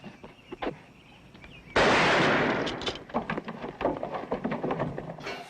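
A gunshot from a 1970s TV horror film gives a sudden loud burst of noise that decays over about a second, followed by scattered clattering sounds.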